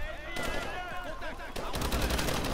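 Turret gunfire in the video game Call of Duty: Advanced Warfare rattles in loud, dense automatic bursts over a busy game soundtrack, with a player's voice briefly heard.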